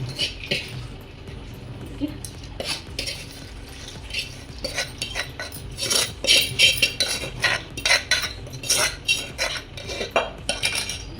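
Spoon stirring tempering through kara pongal in a metal pot, giving repeated scraping clinks and soft knocks in an uneven rhythm, close and fairly loud, with no talk.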